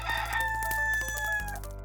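A rooster crows in an animated children's farm story, one long drawn-out cock-a-doodle-doo call, loud and close over a steady low musical background.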